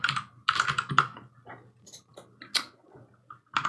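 Clattering bursts of computer keyboard typing as a material name is entered while modelling a cactus scene in Blender, close and crisp keystrokes in short clusters separated by pauses, no voices.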